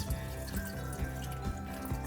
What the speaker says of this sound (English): I'm going to go to the sink, there's just a little bit of extra water, and I'm going to dump out the water, just a little bit.